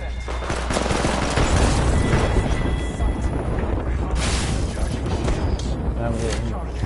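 Apex Legends combat: a frag grenade blast and heavy, continuous gunfire crackle loudly and densely through the whole stretch. A game character's voice calls out over the din.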